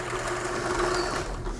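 Vintage Kenmore sewing machine running briefly in a steady, fast mechanical hum and clatter, close and continuous with no voices.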